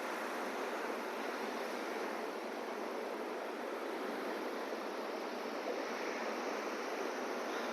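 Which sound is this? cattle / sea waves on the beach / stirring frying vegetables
sea waves on the beach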